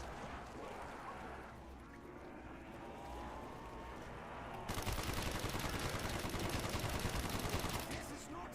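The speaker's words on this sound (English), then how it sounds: "when I start shooting the MP40 here" MP40 submachine gun firing in a video game, a dense loud burst of rapid automatic shots starting midway after a quieter stretch of background game sound, with a voice faintly present.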